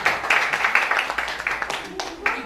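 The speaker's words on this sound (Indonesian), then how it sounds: "Tepuk tangan kagem Ibu Thoibah." An audience at the Raker Cemani 2022 gathering gives a short round of applause for Ibu Thoibah, fairly close and dense clapping, with a voice talking over it.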